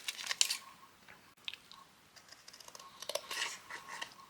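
Paper hearts being cut out with scissors for a small resin canvas craft, sped up, giving a quick run of soft snipping and rustling clicks, close and fairly quiet, with no talk.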